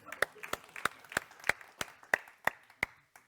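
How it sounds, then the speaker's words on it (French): A congregation at a church service applauding, heard as slow, evenly spaced single claps in a steady rhythm, sharp and fairly close, with no talk over them. "je crois qu'on peut tous l'applaudir"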